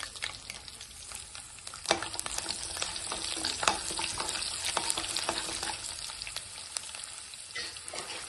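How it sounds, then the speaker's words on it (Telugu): Small shallot pieces fry in hot tempering oil for a mint chutney, a steady close sizzle with scattered crisp pops and spatters running throughout, no voices. "ఇప్పుడు కొన్ని చిన్నులపాయ రెక్కలు వేసుకున్నాం."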